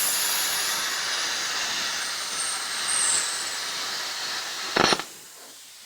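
A first-time plasma cutter slices through metal with a loud, steady hiss that runs throughout, flares in a brief burst near the end, then cuts out. A voice speaks briefly.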